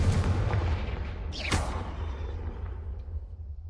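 Confringo blasting spell going off in the video game Hogwarts Legacy: a single booming burst with a swooshing flare about midway, over a steady low rumble of game ambience.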